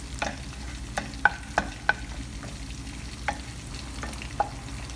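Onions sauté in oil in a pan for an eggplant omelette with tuna, a low steady sizzle under occasional sharp spatula clicks and taps, close by and with no voices.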